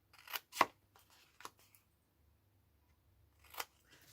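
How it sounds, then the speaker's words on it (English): Scissors snipping through folded paper for a votive candle window box: a few sharp, quiet cuts close by, a quick pair then isolated snips with pauses between. "cut straight down this fold line, and this one, cut that top little triangle off, cut that one in half approximately"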